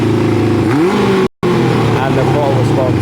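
The engine of a Kawasaki ZL600 motorcycle, running pod filters on a carburettor that needs upjetting, revs up sharply and holds high revs. It sounds loud and close, with a brief dropout partway through.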